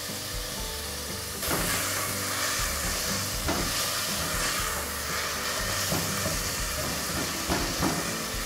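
Chopped onion and a small clove of garlic sizzle steadily in a frying pan, a continuous bright hiss that holds at an even level throughout, with faint scrapes and ticks from the pan.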